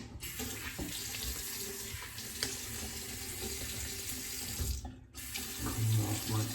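Water from a tap pours steadily into a bathtub during cleaning, a close, continuous hiss and splash that cuts out briefly near the end before flowing again.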